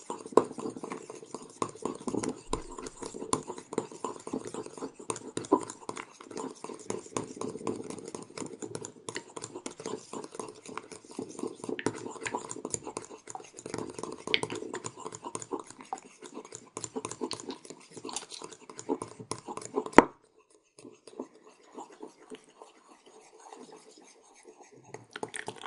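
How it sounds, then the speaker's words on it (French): Cocoa butter conditioner emulsion being whisked in a bowl: a steady, rapid scrape-and-tap rhythm of the whisk against the bowl that carries on for about twenty seconds, then breaks off into sparse, quieter stirring. "Vous voyez, on commence à faire monter l'émulsion là. Vous pouvez mélanger dans les deux sens."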